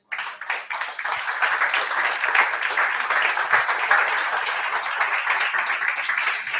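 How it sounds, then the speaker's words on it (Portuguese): A church congregation applauding during a family service, dense sustained clapping from many hands that starts abruptly and stays loud and even throughout. "Dê um aplauso a Jesus, vai."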